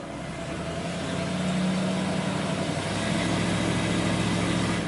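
A 1997 Ford F250 pickup with an engine misfire runs in gear under engine braking, giving a steady, loud, rumbling drone that swells slightly partway through, with no talk over it.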